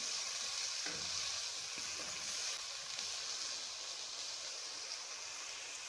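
Sliced onions sizzle in a pan with minced meat, a steady, hissing fry. A couple of soft stirring scrapes come early on, and there is no talking.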